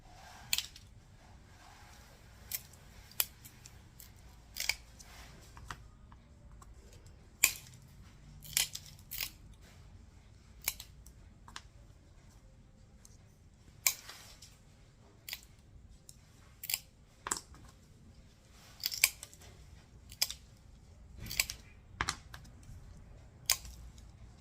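Mosaic pieces are trimmed with hand cutters to round petal tops, giving sharp isolated snips and clicks at irregular intervals over a quiet background, close by, with no talk.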